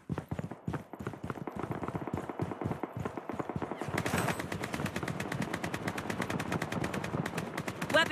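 Rapid automatic gunfire in the shooter Project: BloodStrike, a steady stream of close, rattling shots that grows denser and louder after the first half, with no voices.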